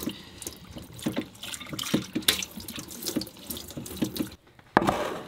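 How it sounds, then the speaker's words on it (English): Fresh tap water runs into a boat's kitchen sink while something is rinsed, a steady splashing flow with clinks and knocks of items being handled, close and fairly quiet, pausing briefly before resuming. "Then we rinse it with fresh water."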